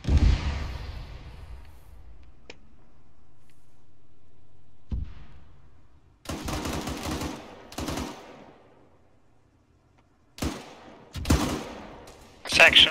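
Loud machine-gun bursts ring out in a military battle game during a hospital defense, with rapid volleys followed by echoing decays. They arrive in several separate bursts with quiet gaps between them, and a voice talks in between.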